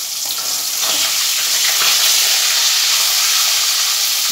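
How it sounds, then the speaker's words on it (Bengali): Fish fries in a pan of hot oil, making a dense, continuous hissing sizzle that stays loud and close throughout with no voices over it. "মাছ ভাজা হচ্ছে"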